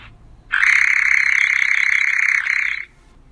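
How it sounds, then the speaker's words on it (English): A nightjar gives one sustained, even churring trill lasting about two seconds, loud and close against a quiet background. "Nightjar."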